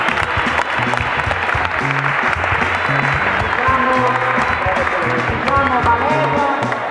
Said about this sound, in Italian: un applauso a Valeria e a Flavia che hanno architettato